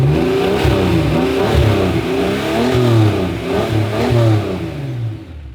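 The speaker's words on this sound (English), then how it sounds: "You'll hear a little bit of a whine, but it's not like the older superchargers" Revving of a supercharged car engine, nearby and loud, with a rising and falling mid-range roar over several throttle blips and a faint whine riding on top.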